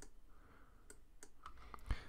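A delete key on a computer keyboard is pressed during a design-software tutorial, giving several sharp, quiet clicks spaced irregularly over about two seconds against a faint room hiss, with no talking.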